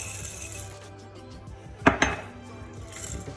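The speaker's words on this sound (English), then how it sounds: "we're just going to mix everything in with our trusty pink spatula" A trusty pink spatula works dark chocolate chips into cookie dough in a bowl, giving quiet scraping and two sharp clinks against the bowl close by, over low kitchen background noise.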